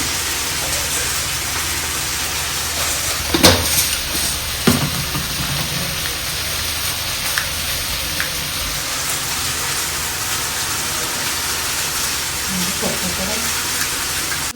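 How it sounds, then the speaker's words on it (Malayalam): Mustard seeds crackling in hot coconut oil, a steady broadband sizzle throughout with a couple of sharp pops near the start, fairly close. "എണ്ണ ചൂടായിട്ടുണ്ട് കേട്ടോ ഇനി നമുക്ക് കടുക് ഇട്ട് കൊടുക്കാം"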